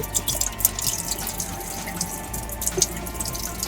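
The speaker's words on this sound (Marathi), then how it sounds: "ते तुकडे आपण आता या ठिकाणी ते धुवून घेऊया व्यवस्थित चकाचक" Chopped vegetable pieces rinsed under a running kitchen tap, a steady close stream of water with small splashes and drips throughout.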